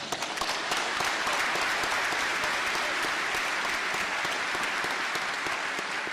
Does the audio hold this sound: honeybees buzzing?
no